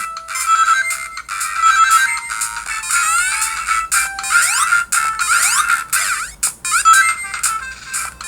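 Tinny, beeping chiptune game music from the small speaker of an RS-69 handheld console, with fast melodic blips, sweeping tones and jingles playing continuously and no voices.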